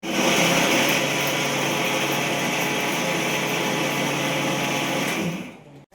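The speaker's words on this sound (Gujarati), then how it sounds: "તમે આમાં મોટા મોટા કરી નાખશો તો ચાલશે કારણ કે મિક્સરમાં ક્રશ થવાનું જ છે." Electric mixer grinder crushing soaked moong dal with water and salt into dosa batter, a loud steady whirring motor hum running nearly six seconds before cutting off abruptly at the end.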